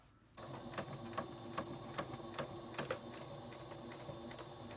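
A sewing machine stitching a backpack strap where it meets the cloth, a steady close mechanical chatter with regular rapid needle ticks, running continuously after a quiet start.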